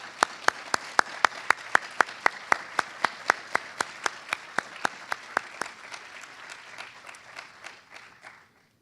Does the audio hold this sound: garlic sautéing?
no